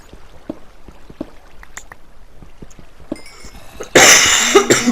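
A single loud, harsh cough bursts out near the end after quiet ambient sounds with faint scattered clicks, during Minecraft gameplay with the Tekkit modpack.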